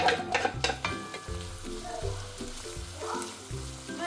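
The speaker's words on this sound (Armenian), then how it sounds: "Այստեղ կդնեմ կարագ եւ լցնում եմ սոխը" Onions sizzle and fry in melted butter in a pot, a steady close crackle with some clinks of utensils against the pan.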